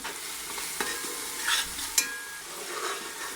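Masala for beef yakhni pulao is stirred and fried in a pot, giving a steady close sizzle with scraping strokes of the spoon and a few sharp clinks against the pot.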